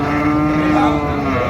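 Beef cattle at a busy market in Chattogram, Bangladesh, with a loud, close lowing moo under a constant crowd murmur and engine-like drone.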